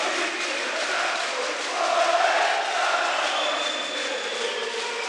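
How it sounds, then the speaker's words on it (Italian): Fasano handball supporters roar steadily from the arena stands during the second half of a league final game, a dense, continuous crowd noise that swells briefly in the middle. "Riprende fiato il tifo di Fasano"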